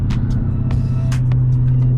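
A Dodge Challenger being driven, heard from inside, with a steady low engine rumble and drone throughout and faint clicks and road noise above it.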